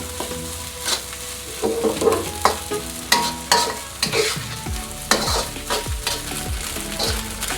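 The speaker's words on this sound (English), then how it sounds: "And just move the rice around, making sure that they don't burn" Golden egg shrimp fried rice sizzles over high heat while a utensil scrapes and stirs it in repeated strokes against the pan, close and busy.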